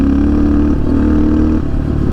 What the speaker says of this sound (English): I'll open the bike up so you can hear the exhaust a little bit.